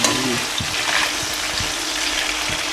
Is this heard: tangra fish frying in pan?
yes